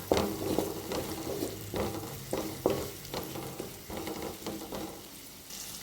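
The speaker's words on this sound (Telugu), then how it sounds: "కలుపుకోవాలి బాగా" Masala with turmeric fries in a pan as a spoon stirs it, a steady sizzle broken by repeated scraping strokes at an uneven rhythm, close and moderately quiet.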